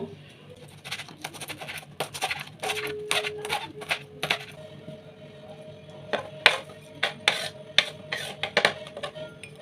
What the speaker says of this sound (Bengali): এবার কয়েকটা লঙ্কা কেটে নেব।